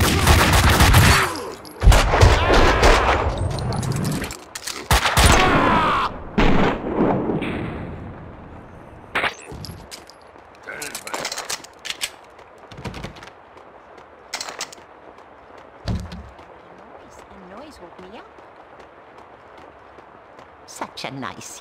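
Max Payne 2 game gunfire blasts loud and dense at first, then breaks into scattered single shots and rattling bursts with footsteps, while voices speak in between.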